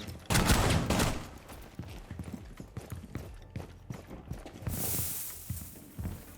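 Gunfire from a gun in Rainbow Six Siege during recoil-control practice: rapid, irregular bursts of sharp shots rattle on for several seconds, moderately loud with no talk.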